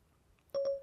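An Apple iPhone plays its Siri activation tone, a short bright double chime over a sustained tone, clear and close after near silence.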